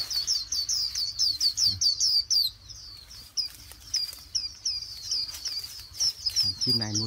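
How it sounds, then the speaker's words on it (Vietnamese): A white-eye bird caught in a simple bird trap chirps in quick, high, repeated bursts close by, continuing throughout, with a low voice near the end. "Chim đúng chim vành khuyên."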